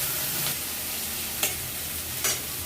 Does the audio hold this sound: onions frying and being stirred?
yes